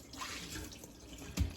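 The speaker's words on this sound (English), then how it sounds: "I'm just gonna rinse them twice." Water runs and splashes faintly over raw shrimp being rinsed in a sink, with a short louder splash near the end.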